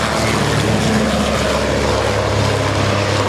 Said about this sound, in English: The de Havilland Dragon Rapide, painted in the colors of the Royal Grenadier Guards